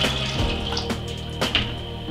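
Hot water from a kettle splashing into a pan during homebrewing, a continuous close liquid pour with brief surging bursts, no voices.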